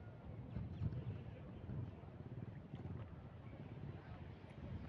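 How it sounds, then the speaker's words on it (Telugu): Wind gusting around a temple flag of Lord Hanuman by the Krishna river, a steady rushing buffet of air with low rumbling wind noise across the mic and no clear separate flapping snaps. "ఆంజనేయ స్వామి జెండా గాలికి రెపరెపలాడుతుంది."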